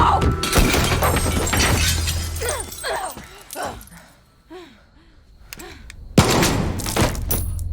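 A gunshot rings out in a Far Cry 6 cutscene. A sharp, loud crack cuts in after chaotic crashing noise and a run of dog barks and whines.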